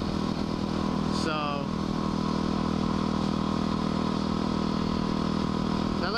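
A motorcycle rides along a road, its engine droning steadily and close throughout, with a brief rising whine partway through and traffic noise around it.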